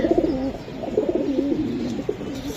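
Giribaj pigeons coo in a steady run of soft, low, rolling calls, close by, with repeated throaty phrases throughout.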